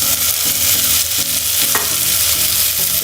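Tomato goes into a hot pan of browned ingredients for a Sri Lankan black pork curry, giving a loud, steady sizzle with soft stirring scrapes and no voices.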